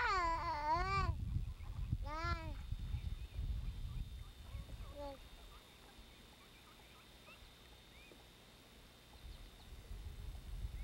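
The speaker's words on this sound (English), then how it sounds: "Mama duck and her babies." A mother duck and her ducklings being fed, with a few close, loud, pitched calls in the first seconds, then only quiet outdoor ambience.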